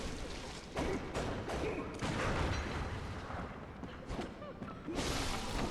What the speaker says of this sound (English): I love that we just launch him with our pistol.